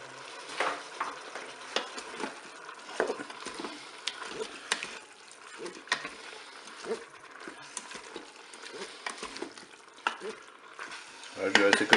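Green beans and tomatoes sizzle in a Cookeo multicooker, a quiet, close crackle broken by frequent soft clicks and spatters of stirring, with no talk.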